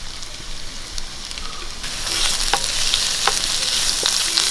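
Chopped onions and green chili sauté in hot oil in a pan, a steady close sizzle that swells louder midway, with soft stirring scrapes and crackles throughout.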